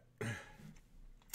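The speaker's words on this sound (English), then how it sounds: "I had to get a couple good coughs out." A person coughs once sharply, then clears their throat with a few fainter rasps, close by and fairly quiet in a still room.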